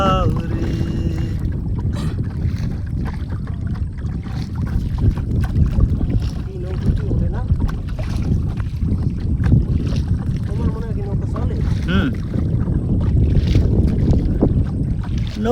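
Motorised boat moving at speed on the Bishkhali river, its engine a continuous low rumble with water rushing against the hull and wind buffeting the microphone throughout.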